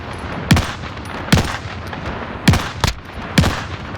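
Five sharp rifle shots from an SVT-40 sniper rifle in Call of Duty Warzone, fired at an uneven pace over a low background hum, each crack loud and close with a brief tail.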